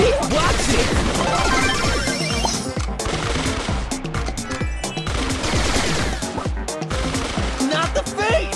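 Rapid gunfire from a weapon in the mobile game Brawl Stars, loud and continuous across the whole stretch, mixed with crashing impacts and game music.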